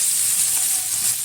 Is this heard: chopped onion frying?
yes